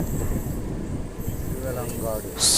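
Inside a crowded passenger coach on a suburban line out of Chennai Central, the train rumbles steadily with a continuous low roar and faint rail noise, and people talk under it.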